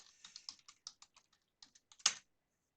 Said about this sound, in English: So you're going to go and type password for that user.